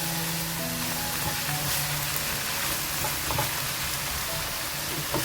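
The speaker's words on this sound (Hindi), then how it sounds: "मसाले को अच्छी तरह कीमे के साथ भून लें आप।" Minced meat keema fries with red chili, salt and spices in a pan, hissing in a loud, steady, dense sizzle from start to end, with occasional faint scrapes as it is stirred.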